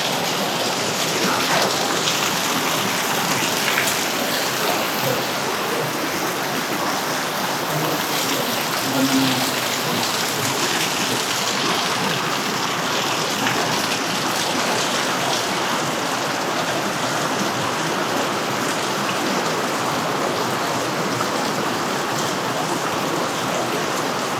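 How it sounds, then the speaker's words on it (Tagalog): Heavy rain pours steadily and loudly throughout, a dense continuous roar of drops drumming on surfaces with no break. "Lakas ng ulan."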